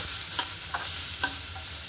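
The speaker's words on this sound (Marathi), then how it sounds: "आता कांदा चांगला भाजून घ्यायचा आपल्याला" Chopped onion roasting in a pan for a capsicum curry, with a soft continuous sizzle and a few light scrapes of stirring, close and steady with no voices.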